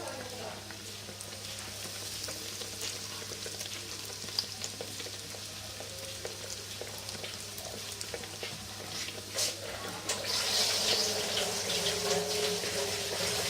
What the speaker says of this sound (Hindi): हम इनको गरम ऑयल में फ्राई करेंगे।